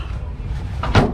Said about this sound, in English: They don't weigh anything, but they still shut like a solid metal door